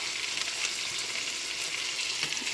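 Chicken sautés in a pan with garlic, basil and onion, giving a steady, close sizzle and crackle that holds evenly throughout with no talking.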